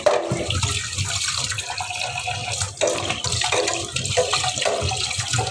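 Food, likely karela, being washed by hand under a running tap, a steady loud rush of water with splashing and shifting surges throughout, no voices.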